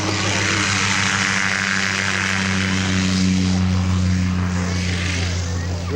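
A two-seat Fantrainer C11 with a 550 horsepower engine at the Shuttleworth Sunset Air Show, its propeller engine droning loud and steady with a low tonal hum throughout.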